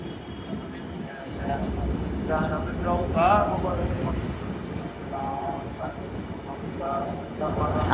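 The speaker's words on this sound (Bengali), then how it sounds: "আমাদের ট্রেনটি এখন ভাঙা জংশন রেল স্টেশনের এক নং প্ল্যাটফর্মে প্রবেশ করলো" Passenger train on the Benapole to Dhaka route pulling into platform one at Bhanga Junction, a steady rumbling roll with faint tonal squeals from the wheels and brakes, while voices talk over it throughout.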